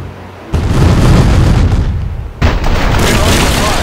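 Ship cannons fire in the naval strategy video game East India Company, two loud booming blasts with broad rumbling noise, the second striking about two seconds after the first and sustaining heavy roar.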